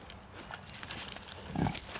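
Pigs on a pasture farm grunt faintly, with a louder close grunt near the end amid quiet outdoor background.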